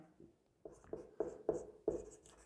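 Writing strokes during a chemistry lesson on reaction order and molecularity, a close series of about five quick scratchy strokes in an uneven rhythm, heard alone in a quiet room.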